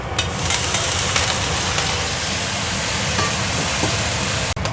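Dried shrimp (ebi) sautéing in a pan, a steady close sizzle and crackle of frying that runs without pause under no talk, ending with a brief dropout.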